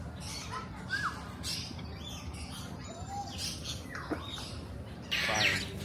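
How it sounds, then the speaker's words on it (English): Caged birds in a walk-through aviary in Hoi An, Vietnam, chirp and squawk repeatedly at close range, with sharp calls and tweets scattered across a steady background of bird chatter and hubbub. "Think they got the birds flying around."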